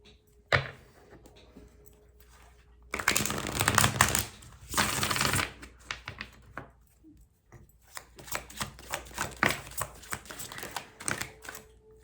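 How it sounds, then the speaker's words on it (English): Message cards being handled and shuffled, with quick riffling bursts and a run of rapid flicks and taps between quieter pauses, close and fairly soft. "Let me get you some message cards."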